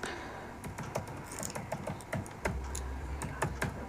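Fingers type on a computer keyboard, irregular clicking keystrokes with short pauses, close up and fairly quiet, no voices.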